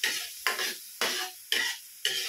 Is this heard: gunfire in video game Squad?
no